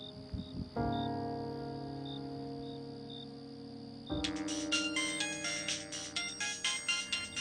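A melodic phone ringtone plays loudly and continuously, its tune shifting into a brighter, busier pattern partway through, with no talking.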